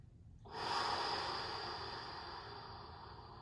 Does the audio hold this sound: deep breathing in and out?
yes